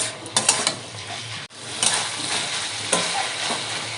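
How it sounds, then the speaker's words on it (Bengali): Potatoes and chicken sauté in a pan over a low gas flame, a steady close sizzle broken by a few scraping stirs and a brief dip in sound, with no talking. "দেখুন এইভাবে কষতে কষতে আলু সেদ্ধ হয়ে গেছে"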